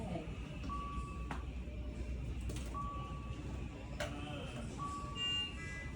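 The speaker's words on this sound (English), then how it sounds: "So that's the noise that it makes when the battery is low." Three short, steady electronic beeps at a mid pitch, a device's low battery alarm, repeat roughly every two seconds over a constant low hum, with a faint voice in the background.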